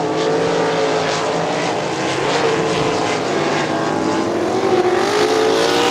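Sprint cars roar wide around a dirt oval at Crystal Motor Speedway, a dense, continuous engine drone from several cars at once, steady and loud with shifting pitch as the field passes.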